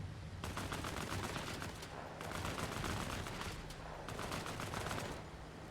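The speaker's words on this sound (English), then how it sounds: "They have a machine gun detachment" Machine gun fire in the Company of Heroes 3 war game: three long, dense bursts of rapid automatic shots, each lasting a second or more with short gaps between, loud and steady against a continuous battle rumble.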